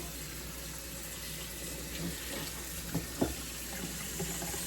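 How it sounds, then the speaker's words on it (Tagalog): Running tap water pours over a 20-pound turkey being washed in a sink, a steady close splashing stream with a few small knocks and splatters partway through. "hugasan ko na lang po itong ano, turkey"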